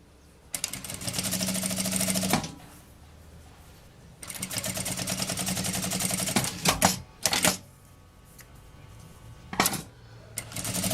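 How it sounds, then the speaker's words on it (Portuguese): A sewing machine stitches fabric straps for a small bag in two long, loud, whirring runs with a pause between, followed by shorter bursts and clicks of fabric handling nearby. "Eu vou começar costurando aqui as tirinhas, uma costurinha de cá e uma costurinha de cá"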